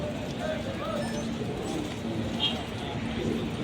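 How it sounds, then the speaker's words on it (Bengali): Soft pigeon cooing rises through a busy outdoor background in Saudi Arabia, with murmuring voices and scattered bird calls, steady and moderately close, as pigeons feed on wheat. "কবুতরের ডাকগুলো ভালো লাগে আমার"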